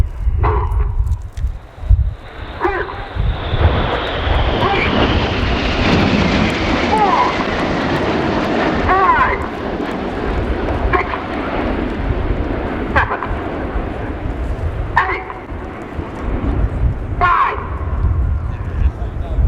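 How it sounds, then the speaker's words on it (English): Red Arrows display jets roaring overhead at an air show, a loud sustained engine rush that swells and sweeps across with a falling whine, with a few sharp crowd or ambient sounds and speech mixed in. "Well, all 9 aircraft now lined up downwind."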